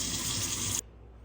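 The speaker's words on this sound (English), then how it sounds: "go ahead and strain your almonds like this and just rinse them off" Almonds rinsed in a strainer under a running kitchen tap: a steady, close hiss of water that stops abruptly, leaving near silence.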